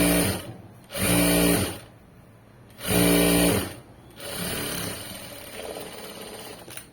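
Sewing machine top stitching fabric in three separate bursts of steady, loud whirring, close by, with brief quieter gaps between runs.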